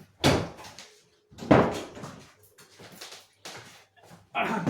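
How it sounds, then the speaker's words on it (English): A door is shut indoors in a kitchen where chapati was just made: a few separate thuds and clatters, close and fairly loud, with short quiet gaps between them. "I thought maybe I'll just close the door."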